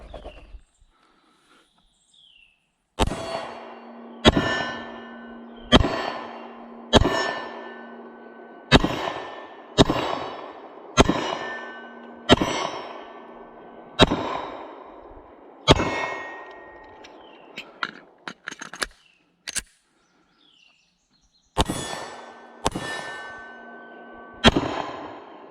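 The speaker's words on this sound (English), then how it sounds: "Let's take this thing outside and ring a little steel." Repeated 9mm pistol shots from an IWI Masada fired outdoors at steel targets about 7 yards away, each crack followed by a bright ringing clang; around a dozen evenly spaced shots, loud and close, with a short pause partway through.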